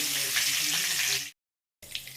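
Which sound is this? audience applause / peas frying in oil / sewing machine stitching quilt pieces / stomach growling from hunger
peas frying in oil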